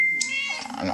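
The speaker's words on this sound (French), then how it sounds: "ça c'est mon chat que vous avez entendu." A house cat gives a single short, close meow lasting under a second, with brief talk in French at the end.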